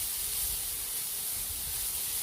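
Chopped tomatoes go into a pan of lightly fried carrots for oats upma, giving a steady close hiss of sizzling that holds evenly for a couple of seconds with no talk.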